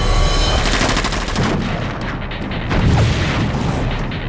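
Shots from a Magnum .357 revolver at a firing range ring out as a rapid string of loud, sharp reports with echoing booms, close and dominant, with no talk.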